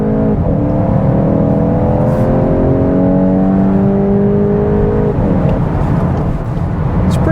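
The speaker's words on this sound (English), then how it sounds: "mash the throttle onto the freeway" A 2022 VW GTI accelerating hard onto a freeway: a loud, steady engine drone climbs in pitch through the gears, with a brief shift dip before rising again, heard from inside the car.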